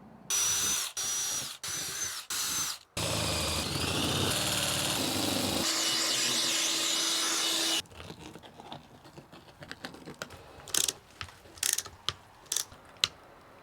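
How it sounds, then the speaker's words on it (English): A power drill whirs in several short bursts while drilling holes in the side of an expedition camper vehicle, then runs in a long steady grinding stretch, followed by scattered clicks and taps. "this isn't the ideal time to be drilling holes in the side of the vehicle"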